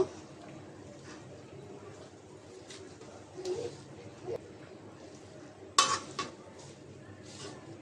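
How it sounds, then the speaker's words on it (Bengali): Sweet potato greens cooking in a pan, soft scraping stirs with a clatter of metal partway through, pigeons cooing faintly nearby and a voice heard briefly. "শাকটা একটা নাড়াচাড়া দিয়ে দিব"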